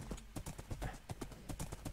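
Horse hooves clip-clop steadily in Minecraft, a quick even run of hard knocks close by, with no talk over them.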